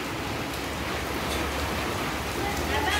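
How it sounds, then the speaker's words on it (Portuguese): Steady rain falls outdoors at home as a continuous, even hiss with no pauses, fairly loud and close. "Chuva."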